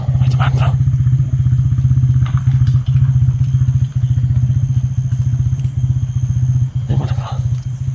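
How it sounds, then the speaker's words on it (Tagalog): A motorcycle passes by on a rural road at night, its steady engine drone loud and continuous throughout, with brief clattering bumps and voices talking over it. "May motor bro. May dumaan."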